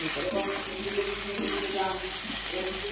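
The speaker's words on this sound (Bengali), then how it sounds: "দিচ্ছি আস্তে আস্তে কচুর শাকগুলো অল্প অল্প করে।" Taro leaves going into a pan of frying spices such as coriander and turmeric powder, a steady, continuous sizzle and hiss close by, with faint shuffling as the leaves are added bit by bit.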